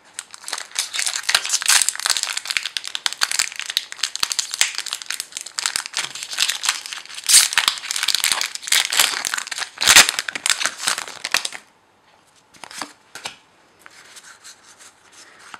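A Pokémon Plasma Freeze card tripack has its plastic wrapper torn open and crumpled, giving loud, close, continuous crinkling for most of the time before it thins to a few scattered rustles.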